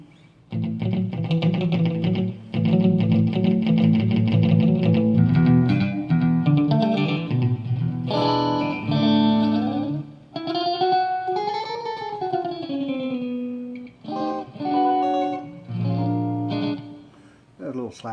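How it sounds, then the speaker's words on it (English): Yamaha REX 50 multi-effects unit running a stereo echo and delay program on a sustained, distorted tone, heard in mono; loud held notes with repeating echoes and a wavering pitch bend midway, no talking. "Chorus, flanger, stereo echo, delay left and right."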